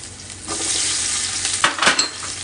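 Green chili, grated ginger and onion fry in a pot with a constant near sizzle, then a few quick scraping stirs near the end.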